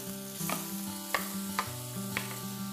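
Cauliflower sizzles in flaxseed oil in a pan for fried rice, a steady close frying hiss broken by several sharp utensil clinks and stirs.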